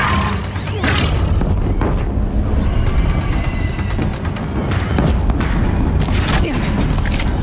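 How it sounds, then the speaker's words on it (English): Deathbringer war machines in Horizon Zero Dawn fire and explode near a bridge, a steady loud barrage of booming blasts and rumbling impacts with no pause, close and dense throughout. "If the Deathbringers keep firing, this bridge will go."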